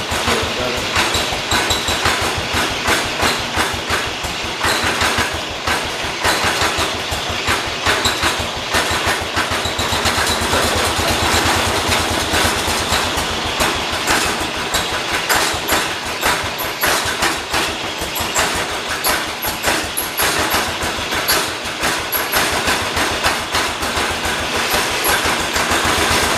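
The small engine of a John Deere 212 garden tractor runs steadily during carburetor tuning, a loud, continuous, rapid-firing drone held for a long stretch, with someone talking faintly underneath.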